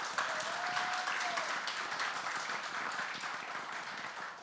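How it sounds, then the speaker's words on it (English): Audience applause at a film trailer launch event, a dense, steady wash of clapping filling the room for several seconds, loud and sustained without fading. "So please, a big round of applause for him."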